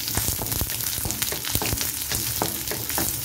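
Onion sautéing in hot oil in a pan, added to a tempering of dal and dried red chillies for chow chow kootu. A steady sizzle runs throughout, broken by sharp stirring taps and scrapes.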